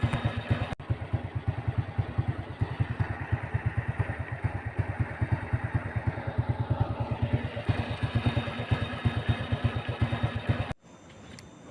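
A motorcycle engine with a newly replaced carburetor idles close by in a steady, fast, even putter for about ten seconds, then cuts off abruptly, no voices.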